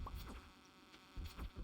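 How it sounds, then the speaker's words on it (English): Buzzing bees in the farming video game Stardew Valley, heard as soft, faint insect drones that rise and fall in short passes, a couple of louder bursts near the end. "Why are there so many bees?"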